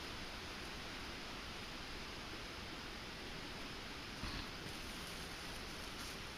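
A primed backpacking stove burns under a pot at a campsite in St. Mary's Wilderness, giving a steady, faint broadband roar that stays unchanged throughout and has a slight bump partway through.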